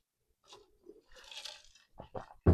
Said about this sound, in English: Pardon my crunch. I like to eat ice.